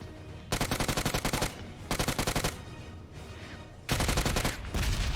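In the video game BGMI, rapid automatic gunfire comes in three long bursts separated by short pauses, each burst a fast, even string of sharp shots.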